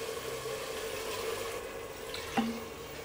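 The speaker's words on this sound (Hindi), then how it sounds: "अब हम इसके अंदर डालेंगे 2 कप पानी।" Water pours steadily into a pot of urad gosht (lentils and mutton with softened tomatoes) over a low sizzling, bubbling background, with a single clink of metal near the end.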